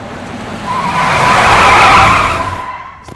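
A car brakes hard with its tires skidding and squealing across the road, a loud screech that swells over about two seconds and then cuts off abruptly.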